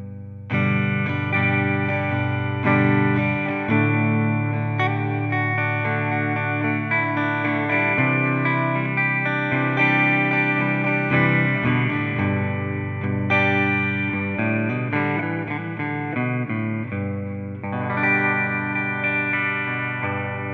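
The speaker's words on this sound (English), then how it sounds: "we should hear quite a nice emulation there of a twin reverb" A clean electric guitar played through an iPhone Fender Twin Reverb amp emulation plays chords and melodic lines with a warm amp tone and light shimmering effects, sustained for about twenty seconds without talking.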